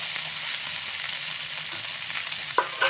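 Green peas frying in a pan with a steady hiss while being stirred, a couple of sharp spoon scrapes near the end.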